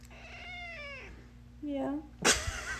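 A new pet cat gives a couple of drawn-out meows, close by, while people talk softly around it.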